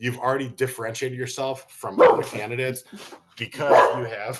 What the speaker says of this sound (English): that's my dog barking, of course,